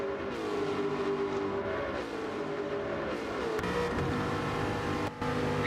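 Aston Martin race car engines roar in a sim racing video game, a continuous loud whine that shifts pitch as cars accelerate and brake, with a sharp drop near the end.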